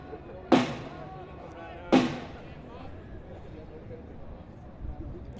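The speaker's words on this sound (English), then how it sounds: "we have a spectator banging a drum" A spectator bangs a drum at a college baseball championship game, two loud booming hits about a second and a half apart echoing across the field, with a faint third thump later under the game commentary.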